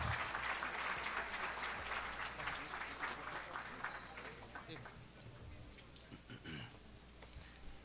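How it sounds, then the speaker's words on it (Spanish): An audience at the Poblano del Año 2013 award ceremony applauds the honoree, a civil engineer. The clapping is distant and faint and fades gradually, with voices talking over it. "Fuerte el aplauso para Cristian Ayala Espinosa, el poblano del año 2013"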